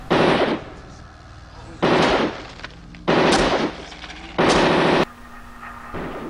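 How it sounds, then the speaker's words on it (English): Automatic pistols in Tomb Raider 2, using the RoboCop gun sound, fire in four loud, close bursts of rapid shots, each lasting about half a second to a second, separated by short pauses. "the automatic pistol sound effects from RoboCop"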